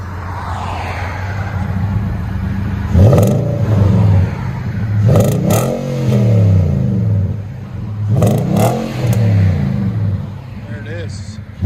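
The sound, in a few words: 2019 Nissan Titan revving with 14-inch Magnaflow exhaust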